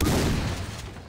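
Gunfire in the video game Far Cry 3 comes as a dense, loud burst of overlapping shots that fades slightly over a brief second.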